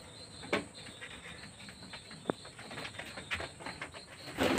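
Pigeons settle in their newly rebuilt loft with faint, scattered coos and brief calls over a quiet background of insect chirring.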